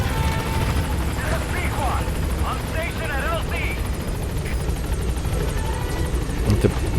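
A helicopter in the video game Metal Gear Solid V: The Phantom Pain thrums steadily with rapid rotor chop and a constant drone, while a voice talks over it and a few faint bangs come near the end.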